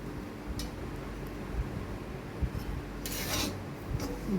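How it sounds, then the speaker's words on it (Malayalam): Chili powder is stirred and roasted in a pan for a coconut chammanthi podi. A spoon scrapes against the pan in soft, repeated strokes, and no one speaks. "മുളക് പൊടി ചേർത്തതിന് ശേഷം അത് നന്നായി ഒന്ന് ഇളക്കി മൂപ്പിച്ചെടുക്കണം തുടരെ തുടരെ ഇങ്ങനെ ഇളക്കിക്കൊണ്ടിരിക്കണം"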